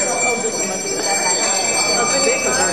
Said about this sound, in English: you're capturing the bell ringing